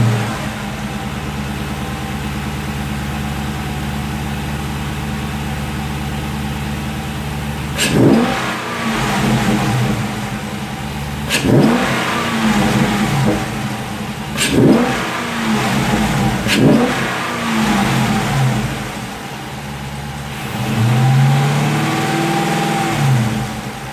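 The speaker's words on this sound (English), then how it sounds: "I'm going to give it a quick rev and let you hear" A 2016 Dodge Charger Scat Pack with a K&N cold air intake idles steadily, then revs up sharply four times in separate bursts, each roar rising and falling back, close and loud.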